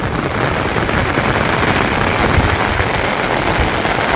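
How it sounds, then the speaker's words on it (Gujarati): Heavy rain pours down steadily over a village, a dense, loud and continuous hiss of drops close by with no pauses and no voices. "હા વરસાદ ફૂલ ચાલુ થઈ ગયો હે."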